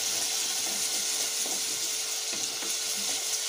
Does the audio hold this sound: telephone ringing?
no